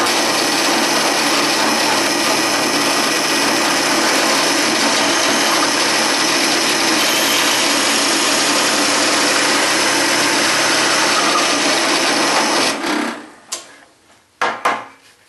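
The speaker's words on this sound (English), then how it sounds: "that drill bit's plenty long. I can get it started from this side, then go to the other side" A steady, loud electric drill whir runs continuously for about twelve seconds as a long bit bores through wood, then cuts off, followed by a few sharp clunks and knocks.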